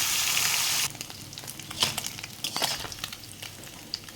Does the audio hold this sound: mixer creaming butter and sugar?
no